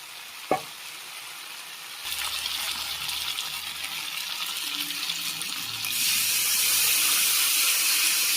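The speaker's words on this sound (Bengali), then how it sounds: "এবার পরিমাণ মতন জল দিয়ে দেবো।" Water is poured into a pan of frying potato and pointed gourd curry. A sharp clink comes first, then a loud hissing sizzle that swells as more water hits the hot oil and keeps going steadily.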